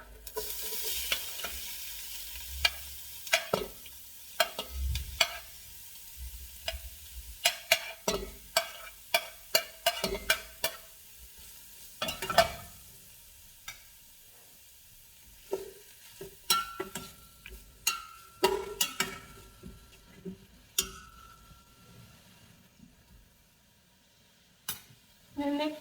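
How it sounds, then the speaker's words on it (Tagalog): Pork frying and being stirred in a pan, with repeated sharp scrapes and clinks of the utensil over a steady sizzle, close up and alone, pausing briefly near the end. "let's put the pork"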